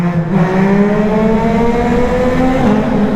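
A Yamaha MT-09 SP motorcycle engine accelerating hard, a loud, close, rising engine note climbing steadily in pitch throughout, with no talk.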